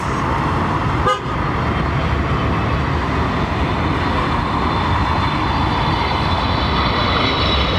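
A loud, steady roar of an airliner's jet engines at London Heathrow, a continuous broad rumble held close for several seconds with a brief sharp tone near the start.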